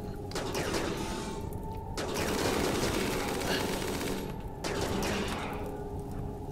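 Rapid bursts of automatic gunfire from the Rimworld video game come in sustained, loud volleys. Brief pauses separate the bursts, and the rattling fire is nearly continuous.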